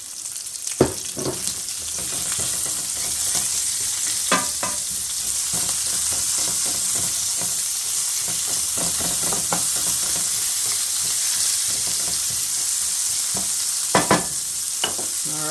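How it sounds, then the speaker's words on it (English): Onions frying in a pan for Swiss steak, a steady close sizzle with frequent clicks and scrapes of stirring and a few sharper knocks, with no voices. "We'll throw our onions in there"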